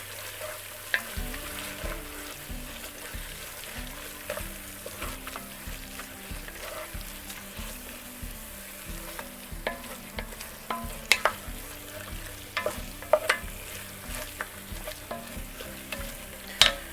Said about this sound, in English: Now stir this up and kind of soften it up, melt it so to speak.